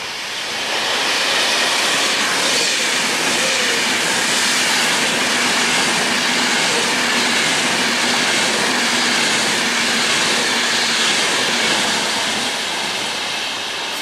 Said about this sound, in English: Now we have 9p46, which is an Avanti West Coast service from London Euston to Blackpool North.